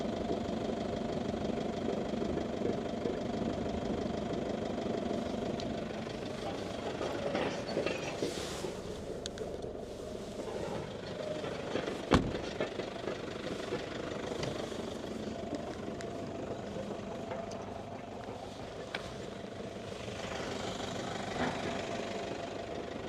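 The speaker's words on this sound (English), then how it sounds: "it was some heavy machines driving here on the side of the road" Heavy machines drive along a roadside near Grindavík in Iceland, their steady, loud engines droning and knocking continuously with occasional mechanical clanks, and no voices.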